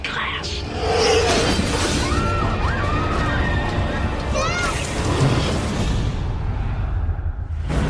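Plate-glass storefront shattering in the film The Mist: a loud, sustained crash and rushing noise runs through most of the scene, with voices heard over it.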